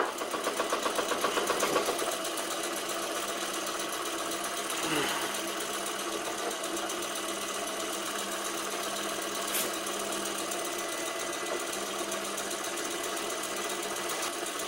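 A vintage bench lathe turns wood with a steady mechanical hum and fine rhythmic rattle, loudest near the start and then running evenly with a brief scraping swell midway and talk around it.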